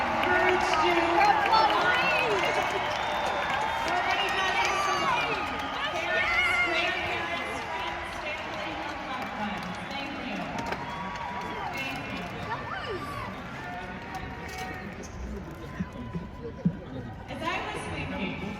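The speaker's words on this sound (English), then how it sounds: "Could all of our graduates please stand and give a huge round of applause" A graduation audience breaks into sustained applause and cheering, a dense wash of clapping and crowd noise that swells early and slowly thins, with voices talking over it.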